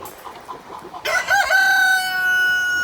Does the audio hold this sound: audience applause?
no